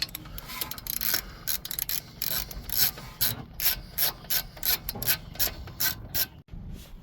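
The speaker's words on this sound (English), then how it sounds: "you have a 13 mil on the top and bottom. Pull those out and you take the caliper off" A ratchet working the 13 mm brake caliper bolts on a 2020 Ford Raptor, quick bursts of close, crisp clicking with short pauses between strokes.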